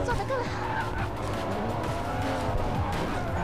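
Racing Master mobile racing game with car engines and tire skids, a car crashing into another car in a continuous, loud, dense din; someone talks over it.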